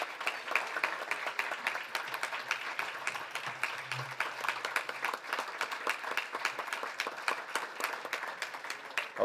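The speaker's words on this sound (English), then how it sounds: "let's give him one more round of applause" Audience applause filling a congressional breakfast room, steady dense clapping that carries on for the full stretch at moderate loudness with no voices over it.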